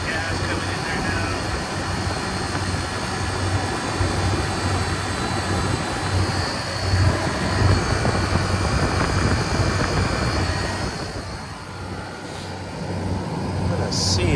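A refrigeration condenser fan runs in a steady, broadband whooshing hum with a low drone beneath it, continuous and fairly close. It eases slightly toward the end.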